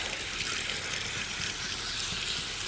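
Steady rushing spray of water rinsing air conditioning coils during a service in hot Bakersfield weather, a continuous hiss with no break, fairly close.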